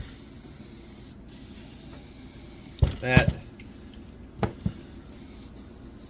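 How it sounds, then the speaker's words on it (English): WD-40 sprayed in short hissing bursts into the carburetor of a McCulloch 5-10E electric-start chainsaw during a repair, one longer burst followed by two brief puffs, close and loud, with a few spoken words nearby. "I don't have any carb cleaner spray, but I've got WD-40. Do that instead."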